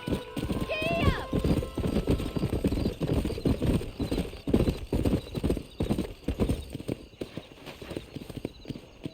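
Several horses gallop in Red Dead Redemption, a rapid, steady clip-clop of hooves that runs throughout, with a brief whinny near the start and a person talking over the hoofbeats.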